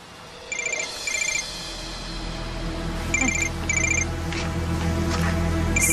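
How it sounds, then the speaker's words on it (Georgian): A telephone rings in short repeated double bursts, clear and close, sounding three times over a low steady room hum with no talk. "სიბელი რეკავს"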